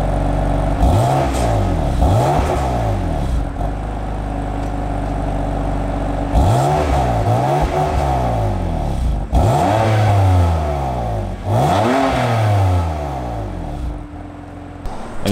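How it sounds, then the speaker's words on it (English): A BMW F80 M3 CS engine revs repeatedly through its unique sport exhaust, loud and close, with several sharp rising blips and falling roars in rhythmic bursts over a steady idle rumble. "The CS gets a unique exhaust. You guys will be able to hear it in a second."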